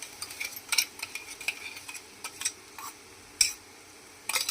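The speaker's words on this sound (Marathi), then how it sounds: "आणि हे आता थोडं चांगलं परतून घ्यायचं आहे आपल्याला तेलात." Chilies and garlic cloves sautéing in oil with asafoetida for methi dhebra, stirred with a spoon that clinks and scrapes intermittently over a faint, steady sizzle; no talk.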